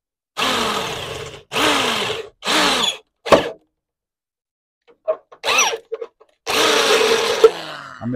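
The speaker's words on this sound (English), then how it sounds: "we'll put the drill bit in properly now" A power drill fitted with a Dormer bit runs in several short, loud bursts separated by pauses, a workshop job on a Ford Fiesta front bumper, with a few quieter knocks between the longer runs.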